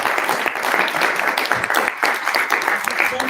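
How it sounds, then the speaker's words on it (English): An audience at a speaker event applauding the speakers, a steady wash of many hands clapping at moderate loudness that holds without a break, with faint voices mixed in. "Let's give all the speakers a round of applause"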